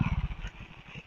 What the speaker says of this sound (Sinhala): බයික් එකක් ගියා සෝරි සවුන්ඩ් එක ආවා.